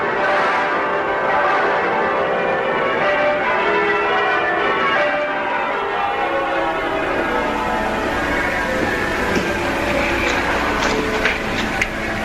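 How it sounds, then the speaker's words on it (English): Church bells peal loudly and continuously, many overlapping strokes forming a dense, resonant clangour that fills the whole stretch without voices, rung in celebration in Elizabethan England. "And now the bells begin to ring."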